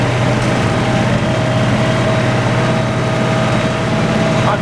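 A tractor drags a heavy oak log through mud in the woods, its engine droning steadily and loudly throughout with a low rumble and no pauses.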